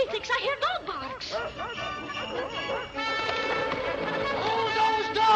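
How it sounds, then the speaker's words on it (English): Several dogs bark and yip in a lively burst, loud and close, mixed with music and a busy soundtrack in an old melodrama scene. "Methinks I hear dog barks."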